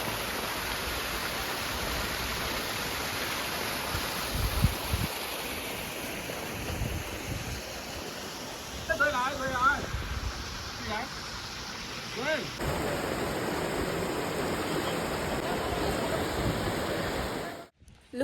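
Clear mountain stream water rushes in a constant broad wash where people are bathing, with faint voices underneath.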